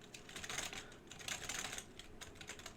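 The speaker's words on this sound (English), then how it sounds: "Like if I do new window, just type in," Fingers type on a computer keyboard in quick, irregular bursts of soft clicking keystrokes with brief pauses between runs. The sound is fairly quiet and close, with no one speaking.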